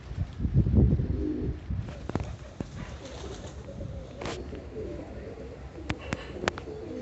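A flock of pigeons kept in a home loft coos steadily and close by, with soft overlapping calls, a few sharper chirps and light rustling throughout. No one speaks.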